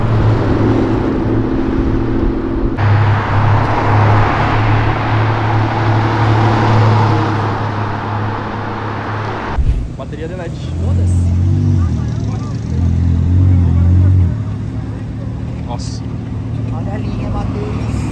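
Car engines drone and rev during a street race between an Opala and an Audi R8 V10 at night, heard from inside a car, with a strong low hum, shifting engine tones and people talking over it.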